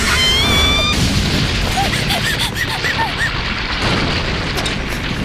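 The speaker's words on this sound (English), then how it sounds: "So that the school was destroyed and the rubble killed Ayumi." A school building collapsing into rubble in an anime scene, heard as a loud, dense rumble of crashing debris that stays steady for several seconds, with a high whine fading early on and faint scattered tones over the roar.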